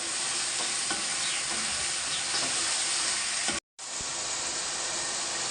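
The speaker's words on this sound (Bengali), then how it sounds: "এখন এর ভিতর দিয়ে দেব দেখো চিকেন দিয়ে দিলাম। সুন্দর করে এখন ওরে ভাইজা দেব।" Chicken pieces frying in a pan with softened tomato and onion for Pakistani white chicken pulao, giving a steady loud sizzle with stirring scrapes, briefly cut off near the end before resuming.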